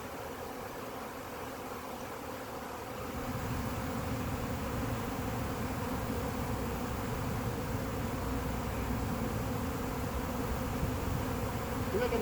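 Swarming bees hum in a dense, steady drone at the Liberty Science Center, close and continuous, swelling slightly louder after the first few seconds and holding level to the end.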